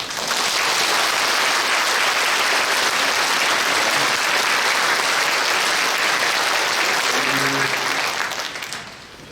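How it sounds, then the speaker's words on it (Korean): A church congregation at a Korean Liberation Day 80th anniversary memorial service applauds in thanks for a pastor, with steady, full clapping filling the hall for nearly nine seconds before tapering off, and a brief voice near the end. "우리 윤석준 목사님께 감사의 박수."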